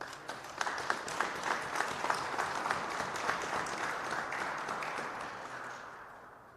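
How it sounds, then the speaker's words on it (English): Audience applause fills the room for a man being introduced at a Minneapolis community gathering, steady dense clapping that holds for several seconds and then gradually tapers off near the end. "Let's give this brother a round of applause."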